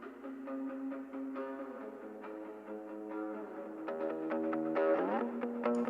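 An isolated reverb effect: sustained, washed-out tones drenched in reverb, notes smearing into each other with a dense echoing tail that swells louder toward the end.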